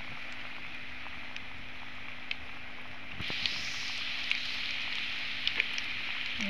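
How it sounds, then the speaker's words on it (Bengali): Rose cookies deep-frying in hot oil, a continuous close bubbling sizzle that grows louder and fuller halfway through, with a few small pops and clicks and no talking. "দেখুন আমি আস্তে আস্তে ভেজে নিচ্ছি।"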